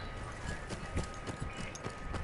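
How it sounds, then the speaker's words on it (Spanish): Horse hooves clip-clop in a steady walking rhythm in the video game Battlefield 1, close and fairly clear, with faint background noise. "Pasó un vato con caballo"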